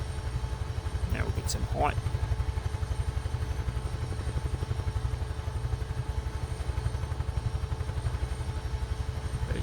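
A Bell UH-1 Huey helicopter in Microsoft Flight Simulator thumps with a steady, fast rotor beat and a low engine drone throughout, with a few brief spoken words over it.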